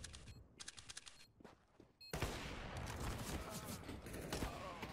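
Counter-Strike: Global Offensive gunfire from a DreamHack match: scattered sharp shots early, then a dense, loud burst of rapid overlapping gunfire that continues steadily to the end.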